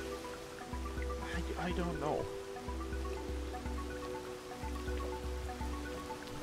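Rain in the video game Rain World Downpour, a steady hiss of falling rain over a regularly pulsing low tone, with a person talking briefly over it.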